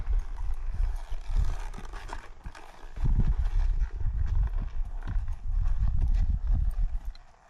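Horse hooves clip-clop in a steady rhythm on soft ground, close by, with some rustling and shuffling between strides.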